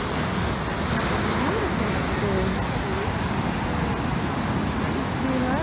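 Ocean surf rolls steadily on a warm, quiet beach on the Algarve coast of Portugal, a continuous broadband wash with wind, while faint voices talk in the background.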